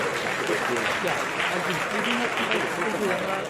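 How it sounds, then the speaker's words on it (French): Audience applause at the Miss DR Congo 2016 beauty pageant final, a dense, steady wash of clapping from a large crowd that holds at an even level throughout without letting up. "Applaudissements pour Anado."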